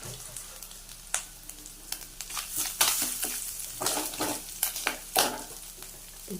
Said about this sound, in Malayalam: കുറച്ച് തേങ്ങ വറുക്കണം അപ്പോൾ അതും ഇതുകൊണ്ട് കൂടെ വറുക്കാം